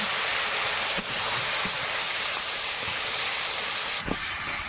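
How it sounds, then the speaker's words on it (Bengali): Potatoes frying in a pan with salt at an outdoor Sundarbans kitchen, a steady broad hiss and sizzle running throughout with a few brief clicks of stirring. "আলুগুলো একটু ভেজে নিচ্ছি আলুর মধ্যে একটু লবণ দিয়ে দিচ্ছি"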